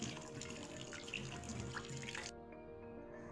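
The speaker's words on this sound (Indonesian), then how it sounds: "bersihkan batang brotowali dengan air mengalir hingga bersih" Tap water runs steadily over brotowali stems being rinsed, a close splashing and trickling that cuts off abruptly partway through, leaving only a faint drip and room tone.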